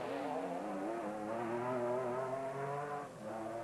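Castrol Toyota rally car racing flat out along a dusty gravel track at the Sugarbelt 400, its engine droning loud and close with rising and falling revs and a brief dip near the end.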